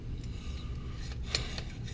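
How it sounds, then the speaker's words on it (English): A Granberg Grind-N-Jointer bar-mounted chainsaw chain grinder slides back and forth along its guide bar, making dry, raspy rubbing strokes with a few sharper scrapes, close and moderately quiet. "You can see how the grinder slides back and forth on this bar."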